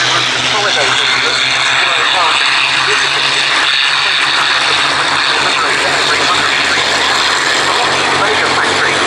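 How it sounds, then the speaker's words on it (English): Boeing B-17G Flying Fortress engines roar loud and continuous at an air show at IWM Duxford, with a broad, steady drone and a voice speaking underneath. "our Boeing B-17G Flying Fortress"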